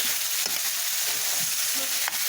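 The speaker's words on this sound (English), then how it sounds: "Caramelizing the onions, the jalapenos," Onions, jalapenos and garlic caramelize in a hot pan for a taco filling, giving a steady, close, broadband sizzle with a few soft stirring scrapes and no voices.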